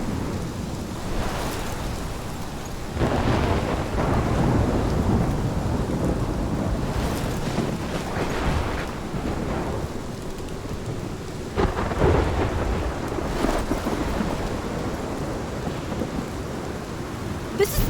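Heavy rain pours steadily during a thunderstorm in the video game Life Is Strange Remastered, with repeated loud thunder crashes and rumbles swelling over the constant downpour, with no voices.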